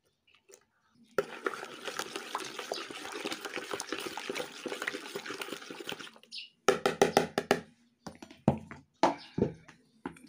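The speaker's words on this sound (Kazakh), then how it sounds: "Енді сұйық май құямыз." Vegetable oil is poured into a milk mixture for dough, a continuous soft liquid pouring noise followed by several short clinks and knocks of a utensil against the bowl.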